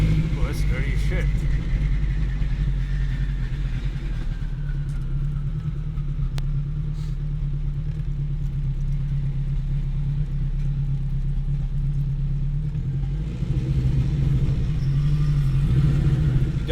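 A 800HP all-wheel-drive turbocharged Acura RSX Type-S with a triple disc clutch drones steadily in traffic, a constant low engine rumble filling the whole stretch with little change in pitch.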